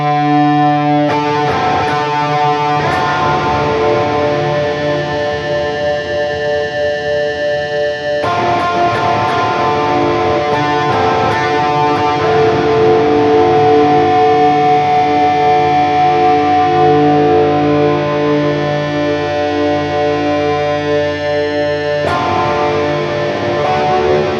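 Sustained electric guitar chords through a reverb effect ring out with a washy, spacious reverb tail, several strums blending into a continuous wall of sound.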